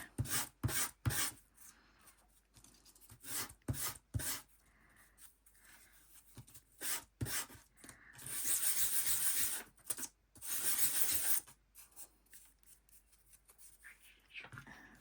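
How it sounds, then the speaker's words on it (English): A small wooden bookcase part for a Del Prado dolls house is hand-sanded in short, close scratchy rubs, then two longer sustained bursts of sanding, with quiet pauses between strokes. "Give it a bit of a sand."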